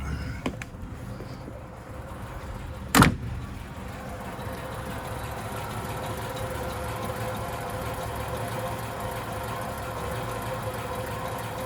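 A 1931 Cadillac 355 Town Sedan engine idling smoothly and quietly just after start-up, a steady low hum with one sharp click near the start.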